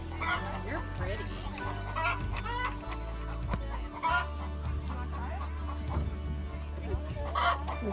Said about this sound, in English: Chicken coop.